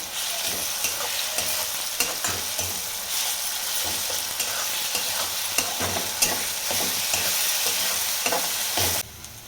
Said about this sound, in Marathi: वाटण टाकते आता त्यात आपण खोबरं कोथिंबीर आणि थोडं आलं वाटण करून घेतले